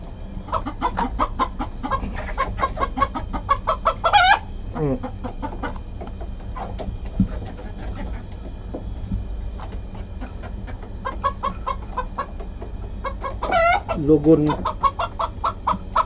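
Chickens cluck repeatedly up close, busy rhythmic clucking with a couple of louder squawks, and a person speaks briefly amid the birds.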